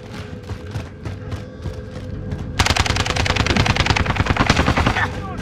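Rapid automatic gunfire from a Warzone match on Alcatraz, bursting in loud and dense after a quieter stretch of scattered shots, with faint voices underneath.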